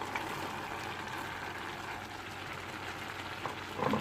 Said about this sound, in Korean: 잘 저어주고요. 뭉그러질 때까지 같이 졸여줍니다